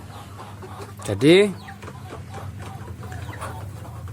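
A KUB chicken lets out one loud, rising squawk close by, with soft clucking around it and a voice speaking briefly.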